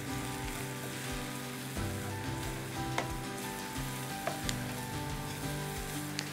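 Flour being stirred into sautéed onions and garlic in a hot pan, a steady close sizzle with scattered spoon taps and scrapes, no talking.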